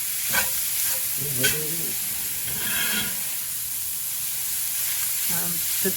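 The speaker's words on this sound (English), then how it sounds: "What we're going to do is just let this ground pork brown." Lean ground pork browns in a pan on a stove burner, giving a soft, steady sizzle with light scraping from stirring and a few faint voices in the background.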